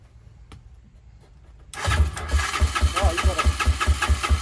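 An engine on a dyno, started in second gear with the choke on, catches suddenly after a quiet pause and settles into a loud, rapid, pulsing idle, with a brief spoken remark just before it fires.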